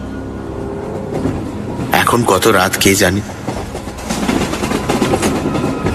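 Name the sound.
train wheels clacking rhythmically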